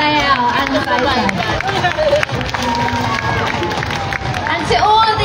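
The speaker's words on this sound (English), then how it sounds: "Let's have a huge round of applause for Sophia, Annie, Raphael, and Faisal." An audience at a community carnival celebration claps and cheers loudly and steadily, with crowd chatter mixed throughout.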